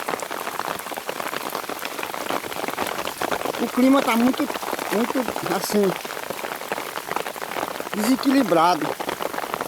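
Heavy out-of-season rain pours steadily onto surfaces, a dense continuous hiss with running water, while someone talks over it at intervals.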